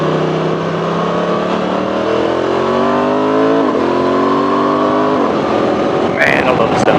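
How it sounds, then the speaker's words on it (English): A 2024 Honda Transalp 750 motorcycle runs at interstate speed, its engine droning loud and steady with pitch rising through shifts under constant wind rush. "I love the sound of this bike."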